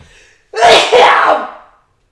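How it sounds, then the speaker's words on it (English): A single loud sneeze bursts out after a short quiet moment, with a sharp intake followed by a forceful explosive release. "I'm about to sneeze."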